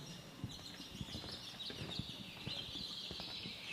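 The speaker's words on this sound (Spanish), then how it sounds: "Oigan, qué hermosos pájaros." Bird calls ring out through a conference hall during a Mexican suicide prevention congress, a steady high chorus of chirping carrying over a murmuring room, with faint thumps below.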